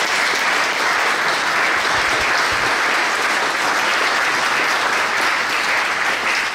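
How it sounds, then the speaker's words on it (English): A large audience applauds steadily and loudly at a sports broadcast collection donation event at Indiana University, a dense, even wash of clapping with no talk over it. "So let's give John another round of applause"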